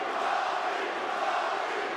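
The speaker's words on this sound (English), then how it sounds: "Crowd trying to give a little juice to Robbie Lawler" A UFC arena crowd roars and cheers steadily during a fight, a dense continuous wall of voices that stays at an even level throughout.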